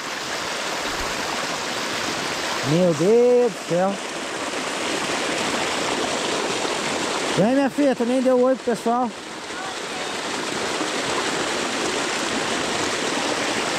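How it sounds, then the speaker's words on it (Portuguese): Rainwater rushes steadily through a dug ditch on a rural ranch after heavy rain, a loud, continuous broadband roar close by, with someone speaking briefly twice over it. "Só de tanto correr água."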